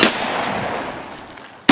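A gunshot from an MP-153 shotgun in the game Escape from Tarkov, with a loud blast that rolls off into a long decaying echo, then a second sharp shot right at the end.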